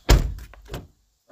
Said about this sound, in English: Let's see if the door handle works.